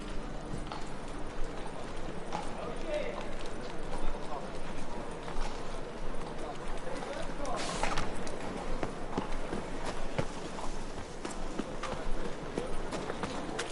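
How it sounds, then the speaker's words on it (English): Horse hooves gallop at a fast, steady clip-clop in The Witcher 3: Wild Hunt, loud and close, with scattered voices and game noise over the rhythm. "he's like a racehorse"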